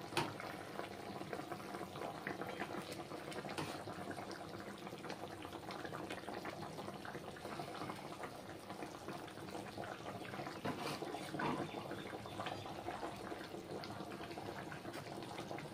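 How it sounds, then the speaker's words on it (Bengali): Spiced curry gravy for tilapia fish curry bubbling in a pot, a faint, steady low boil with soft continuous bubbling and no voices. "দেখো ঝোলটা ফুটে এসছে"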